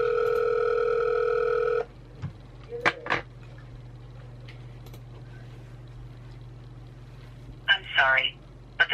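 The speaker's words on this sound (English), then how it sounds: "the person you called has a voicemail box that is not." A phone speaker plays a long steady call tone that cuts off, followed by a few short beeps and clicks, with brief bursts of talk near the end.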